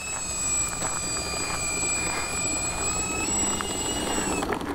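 An RC OV-10 Bronco model plane taxis on the ground, its electric motors giving a steady high whine with shifting tones, close by, with light wind noise and no talking.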